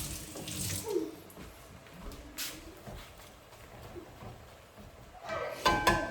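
Tap water runs while vegetables, including cabbage and carrots, are washed at a kitchen sink, a moderate uneven splashing that swells and fades, louder near the end.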